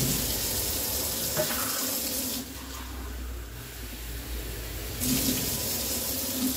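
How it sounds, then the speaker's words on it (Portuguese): Tap water runs in a steady stream into a glass jar for an organic chayote preserve, easing off in the middle before pouring strongly again, close and with no talk over it. "A gente vai usar 3 xícaras de água. 3 de água. Então, vamos colocar 3 até encher ali o vidro."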